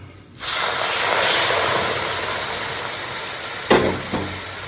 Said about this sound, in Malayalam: 1/2 കപ്പ് ചൂടുവെള്ളം ചേർത്ത് കൊടുക്കാം.